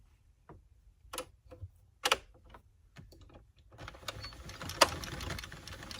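An Addi Express circular knitting machine cranking out rows on a headband, with irregular ticking clicks that build into a steady rattling hum as the crank turns faster.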